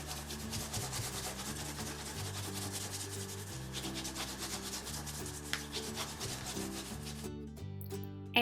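Steady scratching and rubbing on folded paper, transferring a pencil design onto the other half of the page, with continuous back-and-forth strokes close up that run on for several seconds before a brief pause.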